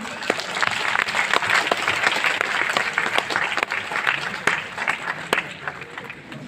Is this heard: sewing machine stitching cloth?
no